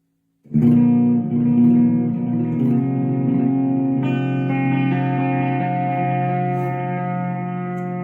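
Electric guitar played through a Coolmusic multi-effects pedal set to echo, loud chords ringing on with repeating trails that sustain and thicken, a second strum about halfway through, no talking.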